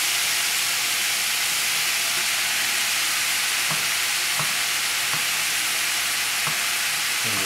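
Tomatoes go into a pot of sea bass soup with saffron, a steady broadband sizzle and simmer with a few soft clinks and stirring knocks standing out over the constant hiss.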